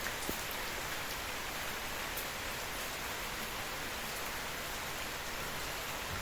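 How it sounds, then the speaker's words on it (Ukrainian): Steady, even rain falls in a soft continuous hiss with a few scattered drops, quiet and unbroken, with no one speaking. "Це перший такий дощ рівненький, гарненький."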